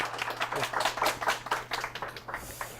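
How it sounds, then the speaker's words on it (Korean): Audience at a career mentoring session claps to welcome a guest, a fairly quiet, uneven patter of hand claps from a modest group, with a steady low hum underneath. "박수 부탁드리겠습니다"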